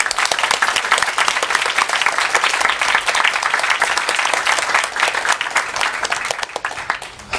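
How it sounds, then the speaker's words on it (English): A room of listeners at a skeptics' talk breaks into sustained applause, dense and fairly loud, steady throughout before thinning a little at the end. "You guys should give her a round of applause"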